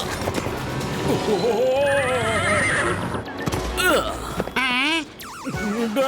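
Cartoon horse whinnying in a Motu Patlu animated scene, several loud wavering neighs over busy music and effects, with a final high squealing whinny near the end.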